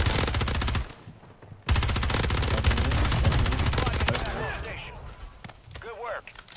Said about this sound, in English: you can turn around and shoot something